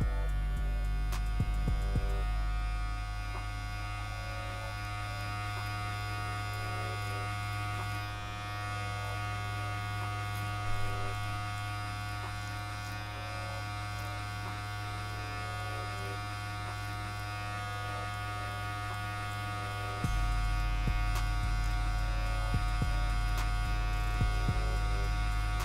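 Electric hair clippers cut hair during a self-taper on dreadlocked hair, giving a steady close buzzing hum with the pitch shifting slightly as the blade moves. A short quieter stretch follows, then the buzz resumes at full strength.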